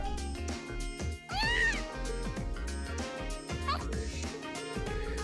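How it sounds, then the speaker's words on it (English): A cat in the Trails of Cold Steel game meows several times over background game music, with one louder, drawn-out meow rising above the rest. "Oh, there's the cat."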